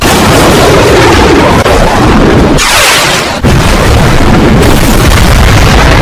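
Air strike explosions in a movie battle scene roar as loud, continuous booming blasts, one sharp burst standing out midway over dense rumbling, with no talk.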